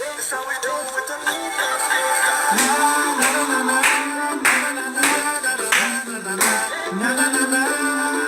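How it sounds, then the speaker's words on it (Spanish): Rhythmic clapping along with loud, busy music in a Zumba dance session, the claps blending into the steady beat throughout. "Ara heu d'aplaudir"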